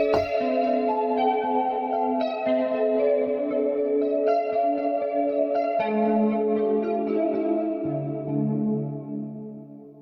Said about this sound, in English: It's a guitar.